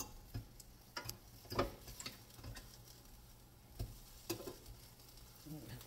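Food on a barbecue grill being flipped with a fork: sharp metallic clicks and scrapes at irregular intervals over a soft, steady sizzle.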